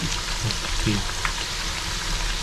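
Chakli frying in hot oil gives a steady, dense sizzle and crackle, close and continuous throughout, with a few faint clinks and a quiet voice in the background.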